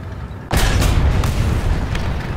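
Tank cannon shot from the M4 Hybrid in War Thunder: a single heavy, booming blast with deep low-end weight, followed by a long rumbling reverberating tail.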